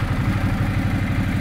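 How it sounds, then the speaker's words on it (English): A 2013 Ducati Multistrada 1200S motorcycle engine running, its loud, close, rhythmic low throb pulsing steadily with no talk over it. "So that's something more like a Ducati that you're listening to right now."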